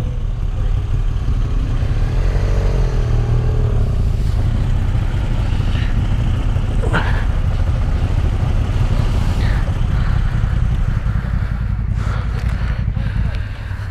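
Moto Guzzi V85 TT motorcycle riding off-road across grass: a steady, loud low engine rumble with wind buffeting runs throughout, with people talking over it.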